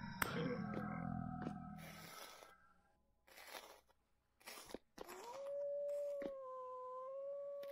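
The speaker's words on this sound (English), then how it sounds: "You can hear all the wolves frustrated that I descended into a cave to avoid them." Wolves howl in the Vintage Story video game: a long, drawn-out, wavering howl rises and holds, following scattered game noises and rumbling ambience, with no talking.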